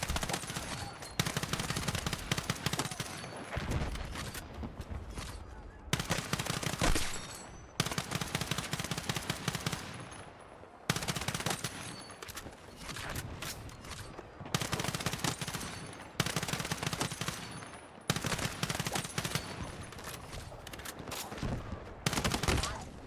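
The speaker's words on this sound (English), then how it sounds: "I had a clip right here on Manhattan Bridge where I was using the 4x and I was tap firing" Bursts of M4A1 rifle fire from Battlefield 6, shot in quick taps on Manhattan Bridge through a 4x scope, loud sharp cracks in repeated clusters separated by short pauses, with game ambience and faint talk in between.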